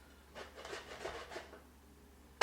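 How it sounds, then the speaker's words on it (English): Pecorino Romano and Parmesan cheese rubbed against a grater give a run of soft, quick rasping strokes, close and quiet, with no talking, ending in a sharper scrape. "It's one way to grate your Pecorino Romano and your Parmesan."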